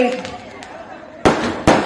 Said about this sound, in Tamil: இந்த பட்டாசு வெடிக்கிறது